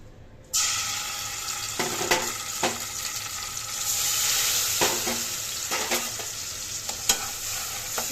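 A vegetarian dish hits hot oil in a pan with a sudden loud sizzle that keeps hissing steadily, broken by scraping stirs and clinks of the utensil.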